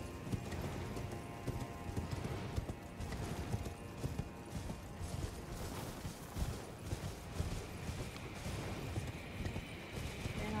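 A horse's hooves clip-clop steadily and continuously while riding in the video game Elden Ring Shadow of the Erdtree, a dense galloping rhythm over ambient game sounds and music.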